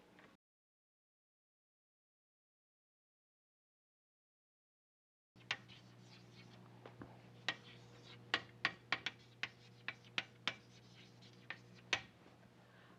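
Chalk or marker writing out a math principle on a board, quiet scattered taps and scratches after a stretch of silence, with a low steady hum underneath.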